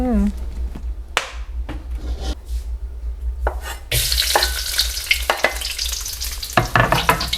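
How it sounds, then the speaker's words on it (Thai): Oil heating in a pan and starting to fry, scattered knocks and clatter at first, then a louder sizzle with stirring scrapes, with a voice talking over it. "เปิดไฟ ใส่น้ำมัน"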